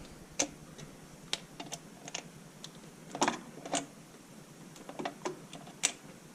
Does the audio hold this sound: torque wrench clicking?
yes